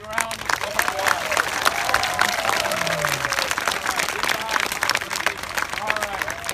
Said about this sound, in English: let's give Frankie a very big round of applause